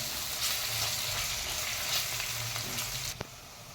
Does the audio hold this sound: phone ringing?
no